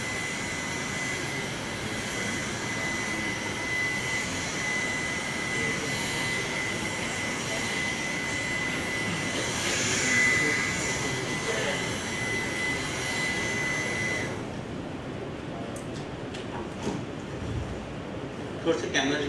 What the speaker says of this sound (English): I would like to dry up this machine a little bit with hot air.